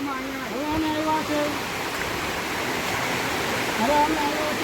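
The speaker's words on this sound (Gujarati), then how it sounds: "ગિરનાર પર્વત માથે ધોમ ધોકાર વરસાદ ચાલુ થઈ ગયો છે" Heavy monsoon rain on Girnar mountain with rushing streams and waterfalls, a loud continuous roar of water and wind under a voice.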